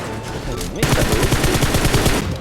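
Rapid automatic gunfire from the PUBG Mobile battle game, a dense rattling burst of shots that starts abruptly after a short quieter lead-in and stays loud to the end.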